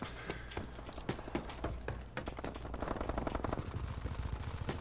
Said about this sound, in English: I'm hearing way too many gunshots down here right now.